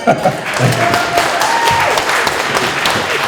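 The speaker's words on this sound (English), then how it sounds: "Give him a big clap." A book launch audience claps for the author's cartoonist friend, dense applause holding at a steady level with a few thuds and some chatter mixed in.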